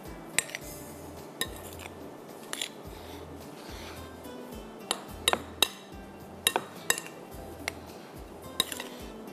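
Aloo chana chaat mixture being mixed in a bowl, with spoons clinking and scraping against the dish in irregular taps and a soft, low background rumble throughout.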